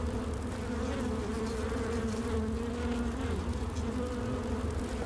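Bees buzzing in the Skyrim VR video game, a dense steady drone of wings with a tonal hum, close and continuous without pause, no talking over it.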